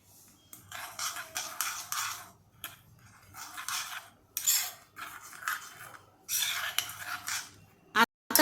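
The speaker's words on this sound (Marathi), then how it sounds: "ही चिंचेची चटणी आहे ही मी ढवळून घेते" A spoon scrapes and clinks against a metal vessel while stirring tamarind chutney, in repeated bursts, close and fairly loud, with brief pauses between strokes.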